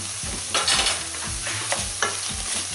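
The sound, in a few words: stirring softened vegetables and garlic in a frying pan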